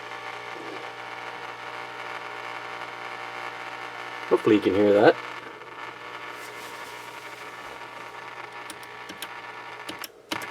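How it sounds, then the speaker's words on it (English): A vintage late-1970s Pioneer SX-680 receiver gives a steady, faint hiss of static through speakers. A brief louder warble sounds midway as it is tuned, and someone says a few words. "So a little further ahead, I'm getting nothing but static out of it."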